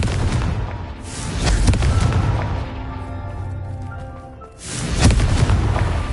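A loud Confringo blasting-spell explosion in a video game, a deep rumbling boom that swells and fades, followed by a second heavy burst near the end, with no voices.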